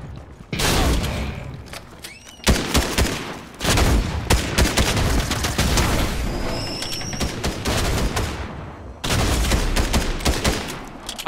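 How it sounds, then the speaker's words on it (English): Heavy gunfire in a video game, loud and close, with dense rapid bursts and booming shots rolling almost continuously, broken by a few short gaps before the firing resumes. "I say that as someone starts shooting me."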